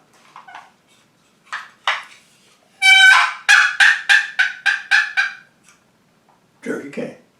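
A wild turkey gobbles loudly in a rapid rattling burst, preceded and followed by softer clucks and yelps, with no other sounds around.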